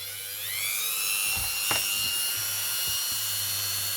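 A Dremel rotary tool polishing a ring made from a 1964 British Caribbean 2 cents coin, with a high, steady whine that spins up and holds, broken now and then by short scraping contacts against the metal.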